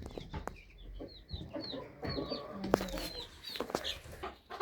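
Hens clucking and murmuring inside a henhouse where some sit on eggs, several soft overlapping clucks and calls at close range with occasional bumps and rustles.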